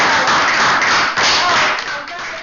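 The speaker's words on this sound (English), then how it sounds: "Can we just give ourselves a round of applause?" A debate audience gives itself a round of applause: dense, loud clapping from many hands runs without a break from start to finish.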